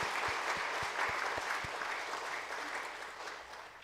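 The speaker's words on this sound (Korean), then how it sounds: "우리 주님께 영광의 박수 먼저 올려드렸으면 좋겠습니다" A church congregation applauds for several seconds after a call to give glory to the Lord, a steady, dense wash of clapping that starts full and slowly thins toward the end, with a few low thumps early on.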